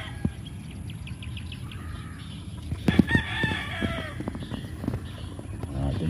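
Gamefowl chickens on a large farm in the Philippines cluck and crow at moderate distance, with a rooster's crow rising in the middle amid scattered calls and steady background noise.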